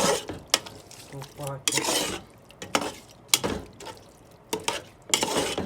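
Shrimp stirred into masala in a pot for biryani, with repeated scraping and stirring strokes in bursts, a brief word spoken partway through.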